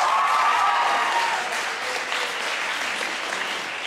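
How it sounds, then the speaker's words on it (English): Full audience applause at a school teacher game show, loud and steady at first and then settling to a slightly softer continuous clapping, with a brief whistle or cheer early on. "And also a big round of applause for Dan, who started Comedy Club"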